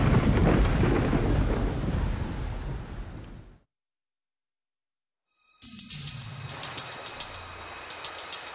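A loud, close thunderstorm sound effect in an English lesson recording: heavy rolling thunder and pouring rain, then a couple of seconds of silence before rain resumes with chirping birds and patter.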